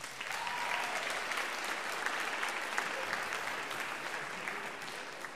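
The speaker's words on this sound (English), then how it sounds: "So round of applause for your parents." A room of parents and players at a volleyball club parent meeting applauds with a steady, even patter of many hands. The clapping is continuous and sounds somewhat distant.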